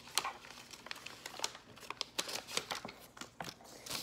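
Scissors snip through paper to cut off flag stripes for an American flag craft, producing a quick series of close, crisp cuts and crinkling paper rustles with no talking.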